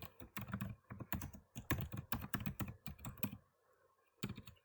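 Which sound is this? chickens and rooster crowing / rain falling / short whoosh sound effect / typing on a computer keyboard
typing on a computer keyboard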